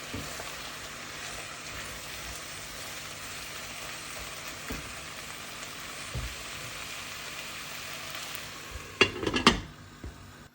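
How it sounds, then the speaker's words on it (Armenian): Mushrooms frying in a pan for mushroom soup, a steady broadband sizzle running throughout, with a few soft stirring knocks and a louder clatter of utensil against pan near the end. "Սունկն էլ պետք է մի քանի րոպե տապակվի"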